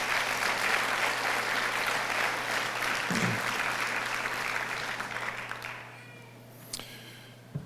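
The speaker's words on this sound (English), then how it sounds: "Please give them a round of applause." Audience applause at a Motor City Match press conference in Detroit, a dense, steady clapping from a roomful of people that thins and fades out toward the end with a few last scattered claps.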